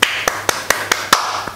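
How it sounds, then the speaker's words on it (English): A single person claps hands in a quick, even series of about seven sharp claps, close and fairly loud, with brief gaps between them. "I clap for him, Ahmed Deedat."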